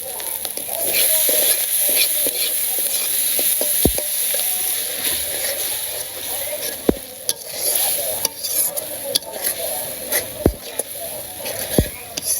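Spices sautéing in a pan for a chicken curry, a continuous loud close sizzle with scattered sharp clicks of a spoon knocking the pan as it is stirred.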